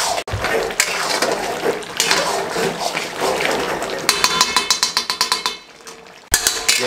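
Chicken karahi is stir-fried on a high flame with chopped chillies, giving a loud scraping sizzle and metal spatula clanks against the wok. A run of rapid rhythmic taps follows, then a short pause before the clatter resumes.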